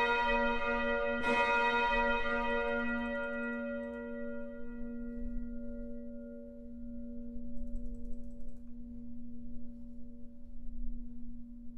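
A single bell in the Roblox game strikes once and rings out with a long, bright, sustained hum that slowly fades over a faint background.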